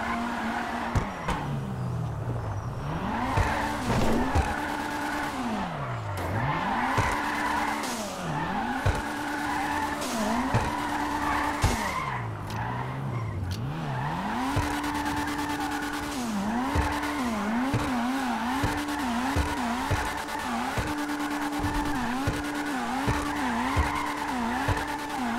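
Tires squeal continuously as an Annis RT3000 drifts in GTA V, the engine note rising and falling in repeated sweeps as the car slides, loud and steady throughout with no talk.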